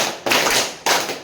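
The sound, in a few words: class clapping in a clapping game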